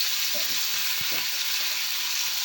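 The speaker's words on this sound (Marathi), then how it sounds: "आता त्याच्यामध्ये घालते कढीपत्ता आणि ह्या भाज्या एक एक घालून घ्यायच्या आहेत." Curry leaves and vegetables, including broad bean pods, dropping into hot tempering for a Marathi mixed vegetable dish, with a steady close hiss of sizzling oil and a few soft thuds as pieces land.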